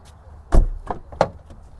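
The rear left door of a 2011 Volkswagen Golf is worked open, giving a sharp mechanical thunk followed by a couple of lighter clicks and taps from the latch and hinge, close by and with no talking.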